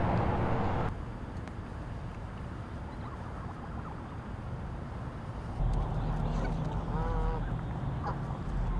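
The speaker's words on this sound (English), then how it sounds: "You're out on the road and lo and behold, a flock of geese." A flock of geese by a roadside, being offered bread, honks in scattered calls at moderate distance over a steady broadband background rumble, with no talk.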